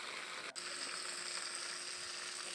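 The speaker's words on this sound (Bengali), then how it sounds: "এবার একটু হালকা একটু নেড়ে নিলাম।" Spiced fried rice being lightly stirred in a pan, a faint, steady frying hiss with a brief scrape near the start, quiet and without any talking.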